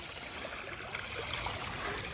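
Water streams steadily through a truck bed liner sluice box at Honey Creek in Ohio, a continuous close trickling and rushing flow with no voices.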